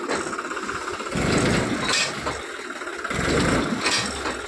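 A tractor engine runs steadily at close range, a low rumbling drone with periodic surges in loudness, on a ride with a trolley to a village fair.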